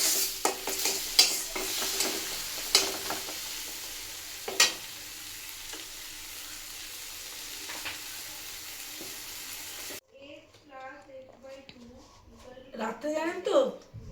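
Sizzling, hissing fry in a home kitchen pan as water goes in, a steady crackle with a few sharp pops and clinks in the first ten seconds, then someone speaks over quieter cooking noise.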